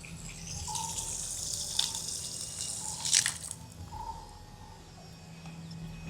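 Water runs steadily from a tap at a roadside spot in Chankanai, a soft continuous trickle with a few brief splashy surges, moderately close, alongside faint insect chirps and no talking.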